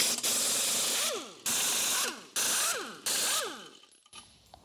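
Lug nuts being spun off a Ford's wheel with a power tool to pull the tire, revealing a broken axle: four short, loud, rising whirring bursts in steady rhythm with brief pauses between, close by, then quieter shop noise.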